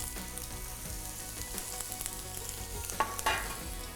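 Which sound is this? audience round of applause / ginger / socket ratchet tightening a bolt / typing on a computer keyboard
ginger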